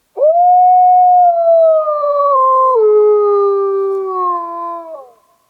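A hunter's imitation of a younger male wolf howl on an Ontario wolf hunt, one long loud sustained tone rising then sliding down in steps and trailing off, close and alone in quiet surroundings.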